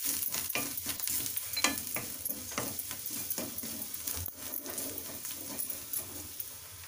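Pav bhaji masala mixture being stirred in a pan on the stove, a steady scraping and sizzling with repeated spoon strokes, close and fairly loud, with no talking.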